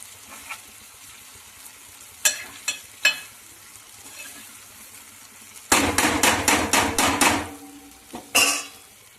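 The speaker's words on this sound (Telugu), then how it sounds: "కాసేపు అయితే అట్లా వేగనివ్వండి కొంచెం." Fish curry pieces frying in oil in a pan for koramenu pulusu: a faint low sizzle throughout, broken by scattered utensil knocks and then a loud burst of rapid metal tapping and scraping against the pan.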